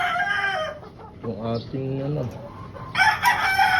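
Wary stag chickens on a poultry farm after monsoon storm damage crow and cluck in short bursts, loud and close, with a brief spoken phrase mixed in near the start.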